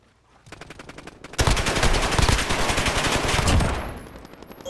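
Automatic gunfire in a video game gunfight match, a quiet lead-in and then a loud, sustained rapid burst of machine-gun shots lasting a few seconds before tapering off.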